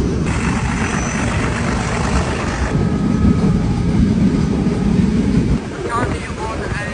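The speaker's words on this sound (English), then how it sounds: "We're currently on a incredibly scenic 5-hour train" A scenic five-hour passenger train ride from Colombo down to Sri Lanka's south coast, heard as a loud, constant low rumble and rattle with heavy wind buffeting across the microphone.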